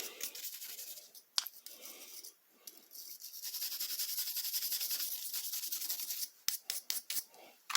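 Residual rust being scraped off a metal hand tool during polishing, heard as close, raspy scraping strokes with a brief pause and a few short strokes at the end.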